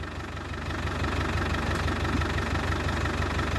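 Diesel engine of an abandoned Land Rover Discovery 1, left on a farm for 20 years, idling steadily with a rough, knocking rumble, loud and close, with no talk over it.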